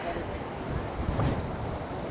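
Strong wind buffets the microphone on a rocky coastal trail near Alamere Falls, a dense steady roar with a brief surge midway and a faint voice under it.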